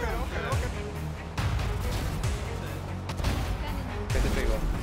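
Grenade blast in a tactical first-person shooter match, a broadband burst amid ongoing gunfire and loud impacts, with players calling out over the action.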